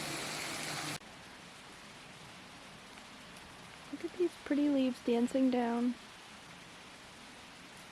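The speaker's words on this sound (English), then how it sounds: "it does feel like it's starting to rain" Steady light autumn rain hisses softly throughout outdoors, with a person speaking briefly in the middle.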